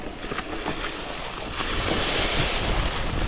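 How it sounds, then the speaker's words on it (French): Strong wind roars steadily across the microphone while riding a mountain bike on an electric-assist trail circuit at Oiartzun, a broad rushing hiss that grows slightly louder toward the end, with no speech. "Le vent qui me pousse."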